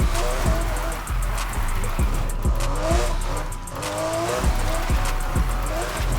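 Engine of a Porsche RSR drifting in the racing game Need For Speed Heat, loud and continuous with repeated rising gear-shift revs and tire squeal, with some talk over it.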